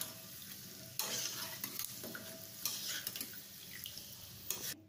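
Corn poha flakes frying in plenty of hot oil, heard quietly and up close: a soft continuous sizzle broken by sudden bursts of crackling and stirring scrapes.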